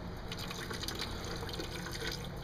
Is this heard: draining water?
yes